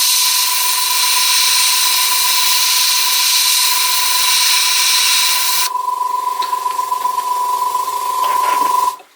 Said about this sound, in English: Apologies for the noisy air compressor